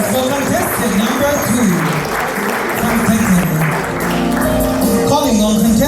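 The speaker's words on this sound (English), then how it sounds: "Ladies and gentlemen, a round of applause for contestant number" Applause for a contestant at a Samoan taualuga pageant competition, with clapping spread through a busy hall under music and chatter, voices murmuring over the clapping throughout.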